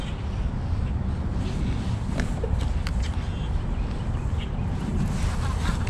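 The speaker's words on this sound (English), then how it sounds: "the wind is blowing really well here" Strong wind gusts buffet the microphone outdoors on a springtime bass fishing trip in the woods, a loud continuous roar with rushing noise and faint background sounds, no speech.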